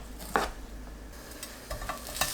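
Smoked pork belly slices, 0.5 cm thick, fry in a pan over medium heat. A faint, steady sizzle runs throughout, broken by a few light scraping touches of a utensil.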